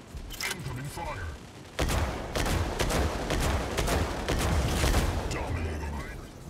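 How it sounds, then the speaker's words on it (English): Rapid bursts of gunfire and mechanical weapon blasts from the Mech Arena video game, dense and continuous through the clip, with brief voice callouts mixed in. "Incoming fire."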